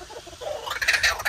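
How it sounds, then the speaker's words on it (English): A caged kookaburra calls nearby in one short, loud burst of raucous, rising bird cries, with no talking. "just a kookaburra, by the way"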